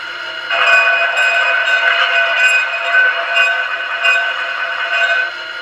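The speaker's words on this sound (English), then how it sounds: "F1 is your bell." A model bell from an LGB 20892 Sumpter Valley locomotive with a Zimo sound decoder rings steadily for about five seconds. The tone is bright and metallic with repeated strikes, close and loud over a constant mechanical hum.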